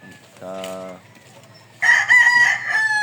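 Chickens cluck close by, followed by a loud rooster crowing in a long, ragged call.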